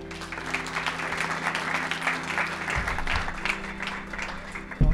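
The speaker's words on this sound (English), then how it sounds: "Everyone's gonna give you a round of applause." Audience at a magic show at the Chicago Magic Lounge applauds steadily for the full five seconds, a dense continuous wash of clapping with a brief louder burst at the very end.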